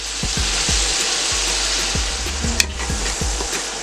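Minced garlic stirred in a Power Pressure Cooker pot: a steady sizzle runs under repeated scraping strokes of a spoon, with one sharp clink near the end, close and clear with no talking.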